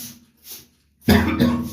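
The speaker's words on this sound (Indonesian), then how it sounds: "Batuk saya nggak kuat." Two sharp, loud coughs close together, following a moment of soft breathing noise.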